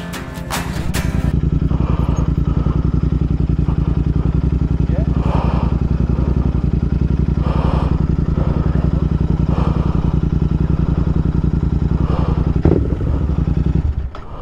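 A Royal Enfield Interceptor motorcycle engine runs loud and steady at close range throughout, with a brief clatter near the end and voices talking over it.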